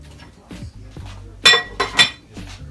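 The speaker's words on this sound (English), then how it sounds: "Mix everything up." Seafood boil ingredients with butter, minced garlic and sazon packets stirred with metal utensils, giving a few loud clinks and scrapes against the pot in quick succession.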